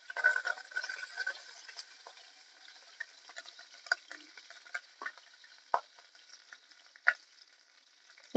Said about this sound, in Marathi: मोहरी, जिरं, हिंग मस्त चांगलं कडकडून